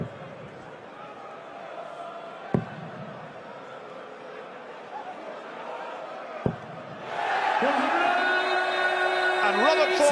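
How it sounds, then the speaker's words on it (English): Dense roar of a darts crowd cheering at a Premier League match, faint murmur and a couple of sharp thuds first, then a loud swell of cheering and whistles. "Crowd are loving this"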